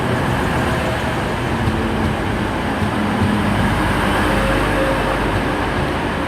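Class 185 diesel train arriving at a platform at Huddersfield station, a steady rumbling roar of engine and rolling wheels that stays loud and even throughout, with no talking.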